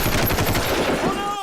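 Rapid gunfire from a video game, dense repeated shots filling the clip at steady loudness with game voices and effects mixed in, ending in a whooshing sweep.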